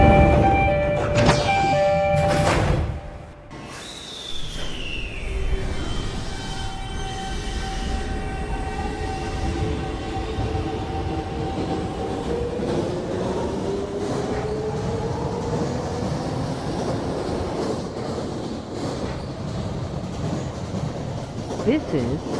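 A New York City subway 1 train runs near 231st Street with a steady rumbling roar and rail clatter after a few loud bangs at the start, while a descending tone and squealing wheels come and go.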